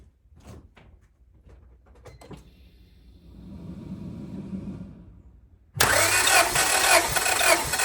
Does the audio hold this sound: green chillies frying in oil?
no